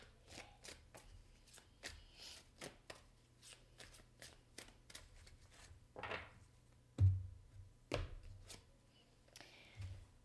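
Cards are shuffled by hand for a tarot-style card reading: soft, close riffling and tapping strokes come in a loose rhythm, with a few louder flicks and thumps, no voice.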